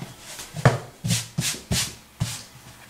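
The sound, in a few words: brushing excess flour off rolled croissant dough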